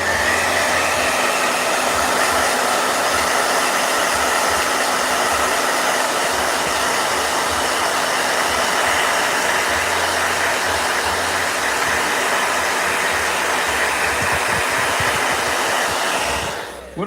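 A blow dryer runs in a loud, steady whir for about sixteen seconds, close by and alone, then cuts off abruptly at the end.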